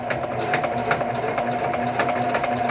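A sewing machine runs steadily and close by, top stitching an open-pressed seam of a red bomber jacket in white thread, with an even whirring hum and a quick rhythmic needle clatter throughout and no talking.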